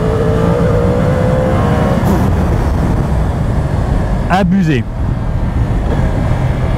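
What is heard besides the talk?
motorcycle accelerating hard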